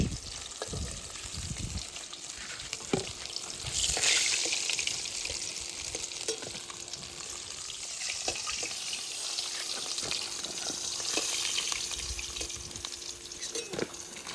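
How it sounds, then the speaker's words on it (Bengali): Chital fish pieces frying in hot oil in a home kitchen, a steady bright sizzle with occasional pops and clinks running throughout, close and fairly loud with no talk. "ভালো করে কড়া করে লাল লাল করে ভেজে নিতে হবে।"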